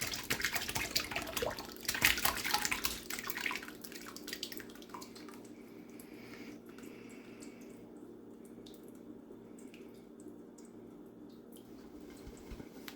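Homemade fruit juice pours from a pot into a bowl, a brief loud splashing stream at first that tapers into quiet trickling and dripping as it drains.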